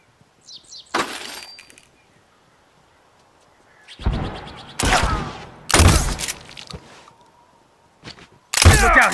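Rifle gunfire in The Last of Us Remastered, Factions multiplayer on the University map: a handful of loud, sharp shots fired irregularly over several seconds, some landing in quick pairs, each with a short crackling tail and quiet gaps between.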